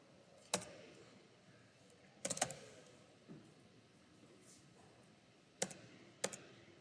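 A computer keyboard during a coding session, heard as a few sparse, sharp keystroke clicks, some in quick pairs, close by in an otherwise quiet room with no speech.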